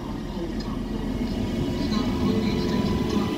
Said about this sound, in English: Northern train service going to Leeds.